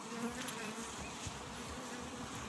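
A steady, dense buzzing of many honeybees at a brood-filled hive colony, close and continuous, with no voices.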